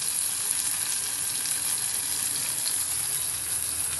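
Eggplant pieces hit hot oil in a pan for a Telugu okra and eggplant pulusu, giving a loud, steady, close sizzle that holds unbroken throughout with no voices.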